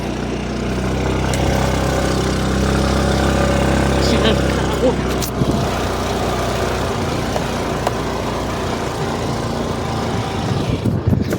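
A car engine runs steadily throughout as the vehicle drives along hilly roads, a continuous low hum with road rumble, while people talk over it.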